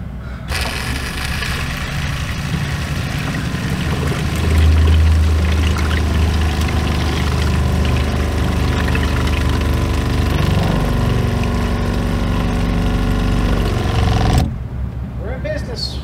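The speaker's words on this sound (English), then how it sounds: "So I'm gonna let the customer go in and cut the water pump back on" A residential water pump switched back on after failing to pump water, running steadily with a loud continuous motor drone and rushing water for about fourteen seconds, then cutting off.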